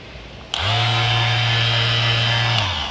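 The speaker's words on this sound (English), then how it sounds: "ended up pulling out my orbital sander on this side over here" An orbital sander sanding a car panel whirs up abruptly and runs at a steady high-pitched drone for about two seconds before spinning down, loud.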